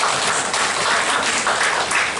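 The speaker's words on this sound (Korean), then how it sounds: "병철이를 향해서 우리 박수 한번 하겠습니다." A church congregation at a Sunday worship service claps together to welcome a returning member, a loud, full burst of applause that carries on steadily without speech.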